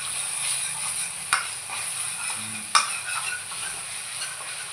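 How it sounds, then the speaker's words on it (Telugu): Spice mix for pork chukka sizzles and is stirred steadily in a pan with a constant close frying hiss, plus two sharp clicks of the spoon against the pan. "బాగా కలుపుకోవాలి ఫ్రెండ్స్."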